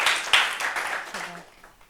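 Scattered hand clapping from a small meeting audience, a burst of claps near the start that thins and fades over two seconds, with a voice briefly audible underneath.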